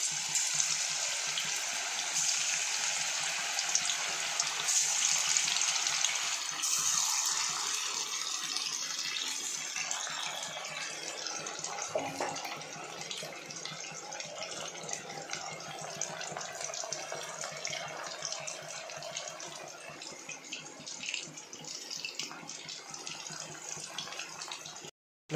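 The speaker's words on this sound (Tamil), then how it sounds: "இப்போ பாருங்கள், ஃப்ரை பண்ணுறோம்." Marinated chicken 65 deep-frying in hot oil gives a steady loud hiss and sizzle that eases slightly over time, continuous and close with no talk.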